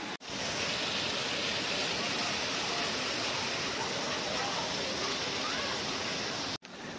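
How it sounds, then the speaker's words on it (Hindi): Heavy rain pours down in a steady, dense hiss that stays loud and unbroken throughout, cutting out briefly near the end. "बारिश हो रही है बहुत तेज"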